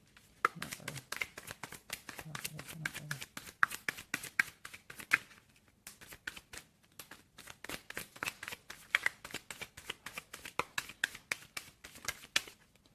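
Tarot cards are shuffled close up in a rapid series of crisp riffling snaps and taps, pausing briefly midway before continuing in bursts.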